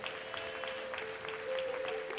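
A church congregation at a French-speaking Christian gathering applauds steadily, a soft, fairly distant wash of clapping that swells slightly toward the end, with a sustained tone held underneath.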